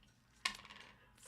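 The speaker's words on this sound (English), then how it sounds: "Roll a dice to add a number to Gargnar's defense." A single faint clatter of dice landing on a hard surface during a tabletop game, followed by a brief ringing tail in quiet surroundings.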